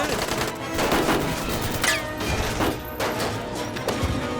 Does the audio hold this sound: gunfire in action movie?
yes